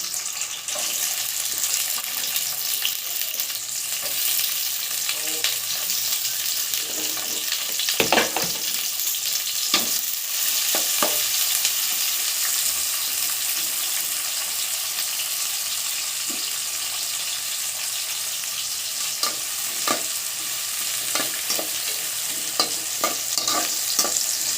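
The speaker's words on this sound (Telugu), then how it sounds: "ఉల్లిపాయ పచ్చిమిర్చి వేసేస్తున్నా." Sliced onion and green chillies frying in a pan for chicken fry, a continuous close sizzle broken by repeated sharp stirring clatters, with a faint watery trickle now and then.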